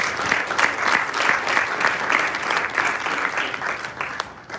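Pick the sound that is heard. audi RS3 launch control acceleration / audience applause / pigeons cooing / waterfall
audience applause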